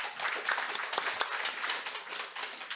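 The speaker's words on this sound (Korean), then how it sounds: "우리 격려 박수 하겠습니다" Church congregation clapping in encouragement during a Sunday morning service, a dense, steady patter of hands at moderate level without speech.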